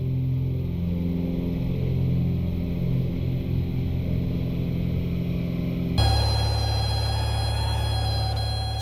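Cessna light aircraft engine under power on takeoff, a loud steady droning hum that abruptly shifts to a higher, brighter roar partway through, close and continuous with no talking.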